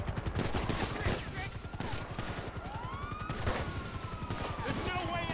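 Rapid bursts of gunfire and flare-gun shots in Grand Theft Auto V crackle loudly and repeatedly, mixed with whooshing, rising and falling tones and a dense game soundscape.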